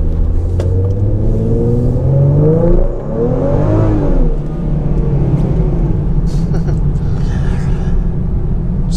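A car with an aftermarket exhaust revs loudly, its deep engine note rising and falling through several throttle blips close by, with someone speaking briefly.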